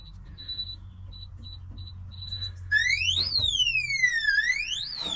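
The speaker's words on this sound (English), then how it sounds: "Then you have to deal with this annoying alarm and it'll let you know, hey, somebody's trying to break in." An SF0106 home safe's alarm goes off after a wrong password is entered: a few short electronic beeps, then a loud, continuous siren that sweeps up and down in pitch.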